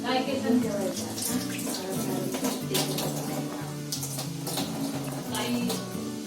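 Tap water runs steadily while boiled jackfruit is drained and rinsed in a village kitchen, a continuous splashing rush beneath voices and tonal background sound.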